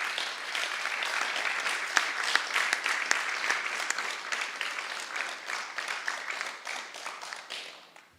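Temple audience at an initiation ceremony gives warm, steady applause with crisp individual claps standing out, sustained for several seconds before tapering off at the end.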